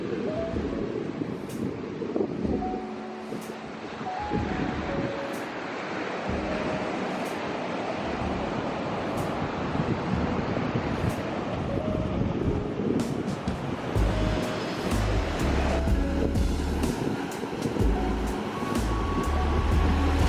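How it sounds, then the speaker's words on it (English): Ocean waves on an Oahu beach rush and crash continuously against the shore, a broad roaring wash with soft musical tones underneath. "all you could hear were the waves crashing"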